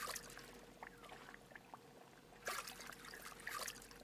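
Water poured from a vessel into a brewing pot in the brewing simulation game Brewmaster, a soft trickling stream that runs steadily and surges in two louder bursts.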